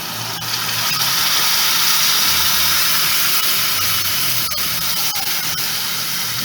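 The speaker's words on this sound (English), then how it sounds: "So after about 2 minutes, I'm going to add the tamarind liquid." Tamarind liquid poured into a hot pan of fish hisses and sizzles loudly and steadily throughout, a close, dense spray-like noise with a faint low hum beneath and no talking.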